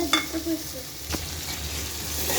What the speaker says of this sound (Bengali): তারপর আমি আদা রসুন দিয়ে আবার একটু নাড়াচাড়া করলাম।